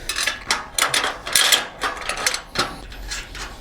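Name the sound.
tightening trailer coupler with 3/4 inch socket wrench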